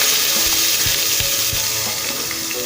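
Small shallots and curry leaves fry loudly in hot oil for a dal and banana-flower curry, giving a constant near sizzle with a few soft stirring thumps underneath.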